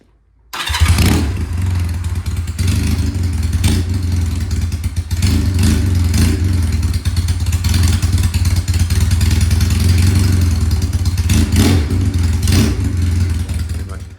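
A 1985 Honda Rebel motorcycle engine idles with a steady, close rumble, broken by a few short throttle revs that swell and fall back.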